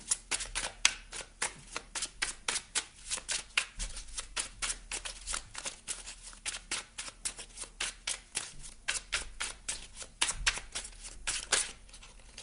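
Small Merlin oracle cards shuffled by hand, a close, rapid, steady run of crisp papery flicks and slaps repeating in a regular rhythm throughout, quiet overall with no talk.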